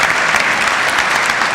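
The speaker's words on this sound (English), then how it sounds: "So let's give them a round of applause." An audience at a public meeting gives a round of applause, a dense, steady burst of many hands clapping close and loud.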